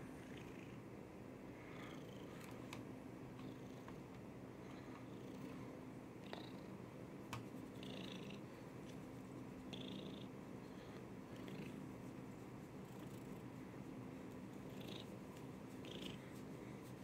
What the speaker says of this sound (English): You're just gonna sit there and purr.